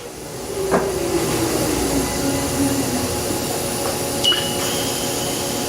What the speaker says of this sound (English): It's running the trunnion there, okay.